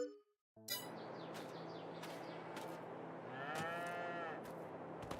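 Dairy cows in Farming Simulator 22 moo loudly after a brief silence, with long, drawn-out calls close by over a light farmyard background with faint chirps.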